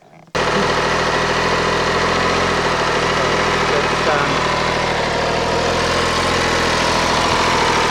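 An MV Agusta F3 800 motorcycle idles in neutral with its engine still cold, a steady, loud, close rumble with a fast even pulse that starts abruptly and holds without revving.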